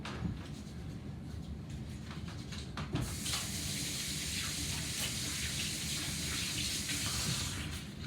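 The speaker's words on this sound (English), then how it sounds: "let me wash my hands again" Hands are washed under a running kitchen tap while baking chewy chocolate cookies, a steady broad hiss of flowing water that thickens and grows slightly louder partway through, with no talking.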